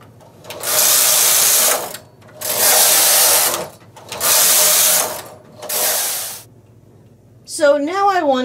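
Carriage of a knitting machine with ribber knitting rounds of a hat: four loud, rasping sweeps of about a second each, separated by short pauses, then a brief voice at the end.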